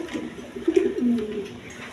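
A pair of baby high-flying Giribaz pigeons coo nearby, giving a few short, low, throaty coos in quick succession that stand out against a quiet background.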